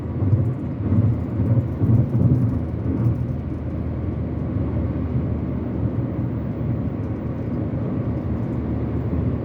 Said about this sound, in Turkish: Bunda dediğim gibi lastik sesi fazla.